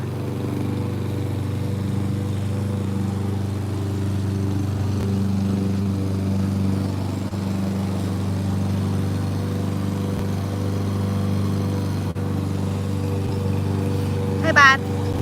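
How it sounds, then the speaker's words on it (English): A lawnmower cuts grass outside, its engine droning in a steady, unbroken hum throughout while a person talks over it, with a brief clatter near the end. "Can you guys hear over the lawnmower?"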